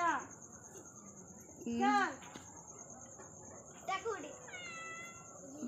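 A cat up on a canopy lets out a few short meows spread across the stretch, fairly faint, over a quiet background with a constant high electronic whine.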